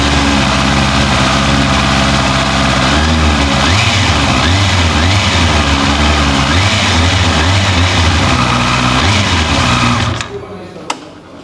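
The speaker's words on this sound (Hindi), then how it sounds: "अब एक बार हम सुन लेते हैं CB 650R का साउंड। स्टार्ट कर लेते हैं गाड़ी को।" Honda CB650R four-cylinder motorcycle starting and settling into a steady, loud, close idle with a smooth, even engine note that cuts off near the end.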